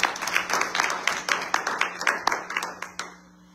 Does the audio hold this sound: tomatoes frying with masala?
no